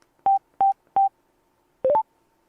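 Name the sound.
motorcycle Bluetooth intercom button clicks and tones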